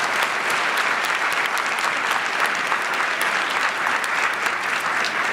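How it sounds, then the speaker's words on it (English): Conference attendees at a plenary session give a round of applause, a continuous, even wash of clapping from a large room that holds steady throughout. "Can everyone join me in giving them another round of applause?"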